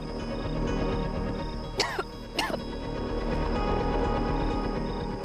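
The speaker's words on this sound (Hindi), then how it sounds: "मैं मेरी दोस्त को खांसी आ रही है" Two short coughs, close together, stand out over a steady background hum and murmur.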